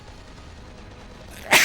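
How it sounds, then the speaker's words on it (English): A single sharp sneeze bursts out close to the microphone at the very end, rising abruptly from a low background hum. "I might sneeze here."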